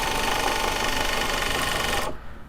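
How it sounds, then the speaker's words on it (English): A sewing machine stitches pull tabs onto fabric box bags with a steady, close mechanical whirr that stops abruptly near the end. "That's what we're sewing in right now, is the first of the pull tabs and the first end seam."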